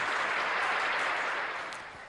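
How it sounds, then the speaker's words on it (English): Dense, steady clapping from an audience at an awards gala, loud and continuous before tapering off toward the end, with no voices over it. "So give yourselves another round of applause"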